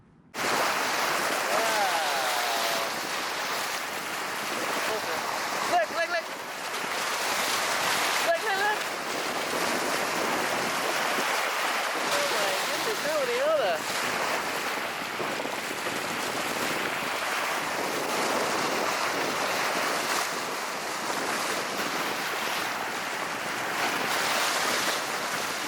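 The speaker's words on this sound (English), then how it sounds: "Bow wave on calm water just after a lovely sunset" Bow wave of a Hallberg-Rassy 54 sailing yacht motoring over calm water after sunset, a steady close rushing and hissing wash that runs continuously with slight swells, with faint wind noise and possible low voices beneath it.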